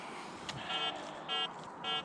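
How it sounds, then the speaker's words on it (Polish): Three short electronic beeps repeat at a steady interval over faint background noise, moderately quiet and somewhat distant. "I znowu pikanie"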